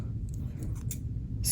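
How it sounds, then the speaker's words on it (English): Spring-back scissors make a few quiet snips and clicks, close and brief, over a low background hum. "I have these spring back scissors, so if you adjust this, the scissors will"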